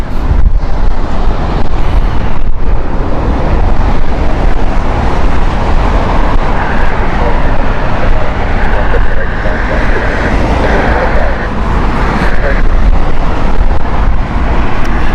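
Airbus A319 jet airliner at Heathrow Airport, a steady loud roar of engine and wind noise that continues throughout, close to the microphone.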